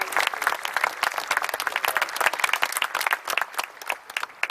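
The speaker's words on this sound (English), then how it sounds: "How about a round of applause for everyone that worked?" A Memorial Day crowd gathered at the Presidio of San Francisco applauds. Many hands clap in a lively, uneven patter that stays close and fairly loud for several seconds.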